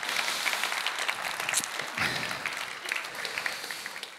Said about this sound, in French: Et on peut acclamer, donner une main d'acclamation pour le Seigneur pour cela.